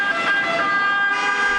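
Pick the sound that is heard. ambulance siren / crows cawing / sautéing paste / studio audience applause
ambulance siren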